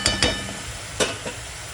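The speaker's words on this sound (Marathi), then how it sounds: "टोमॅटो बारीक केलेला हा पण मी टाकते। 1 मिनिट हा पण परतून घेऊया व्यवस्थित।" Chopped tomato for masala bhindi sautéing in hot oil in a pan, a steady close sizzle broken by a few short scraping stirs.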